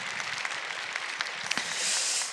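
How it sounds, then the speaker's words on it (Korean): Applause from a church ministry gathering welcoming a pastor to the front, dense clapping from many people at a moderate distance, swelling slightly toward the end. "박수로 환영해 주세요."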